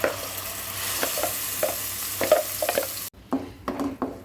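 Hot oil sizzles and crackles steadily as a ground paste is stirred in a pan for paneer butter masala, with scraping stirs and a brief hush before the frying resumes.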